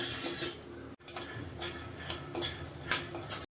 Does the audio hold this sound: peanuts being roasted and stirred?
yes